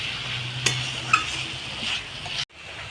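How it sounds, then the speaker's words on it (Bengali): Ground cumin and spices being stirred as they fry in a pan for khichuri, a close sizzle with a few utensil scrapes before the sound cuts off abruptly. "দিয়ে দেবো জিরের গুঁড়ো, একটু নেড়ে নেব আমি মশলাটা।"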